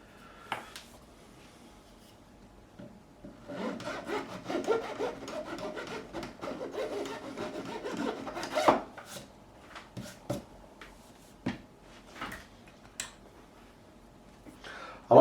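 Wooden fingerboard of a 1986 Hamer Chaparral guitar being scraped by hand during a re-fret, close-up rasping strokes that build into a dense run midway, then slow to scattered separate scrapes.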